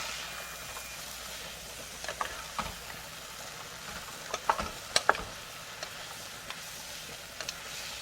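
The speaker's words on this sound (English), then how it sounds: "Let's saute this really good" Chicken and broccoli sauteing in a pan, heard as a quiet, steady sizzle with a few soft scraping and stirring clicks scattered through it.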